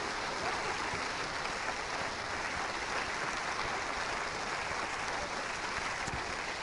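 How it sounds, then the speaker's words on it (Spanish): A congregation applauds during a Christian sermon, a steady, even wash of clapping heard at a moderate distance and holding constant throughout. "Le damos un aplauso a Jesús."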